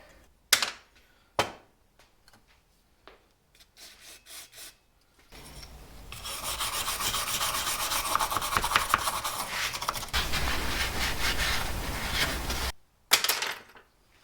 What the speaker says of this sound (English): just taking one of my picks and just going in and just gently loosening up any little crusty dirt